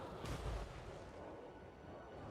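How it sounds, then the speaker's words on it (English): Skull cannon artillery firing into Marauders in a Total War Warhammer 3 battle between Warriors of Chaos and Khorne: one deep, muffled boom early on, then a steady distant battle rumble. "Skull cannon shooting into Marauders."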